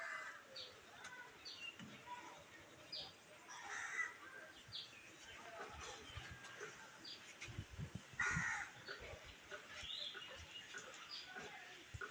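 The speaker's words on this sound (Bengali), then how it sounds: "কাক ডাকছে, ময়না ডাকছে," Crows caw outdoors in hilly, green surroundings, several distinct calls scattered over a background of other birds and faint rustling ambience, moderately near.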